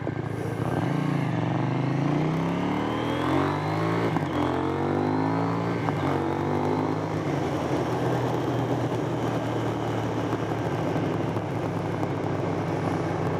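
A KTM 790 Duke naked motorcycle being ridden, the engine droning steadily with rising and falling revs as it accelerates and shifts through gears, close and continuous with wind noise, no voices.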